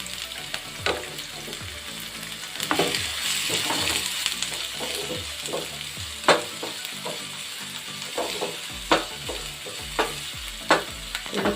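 Green chili and onion frying in oil in a pan, a steady sizzle broken by repeated scraping stirs and sharp clinks of the spoon on the pan, close and fairly loud with no voices.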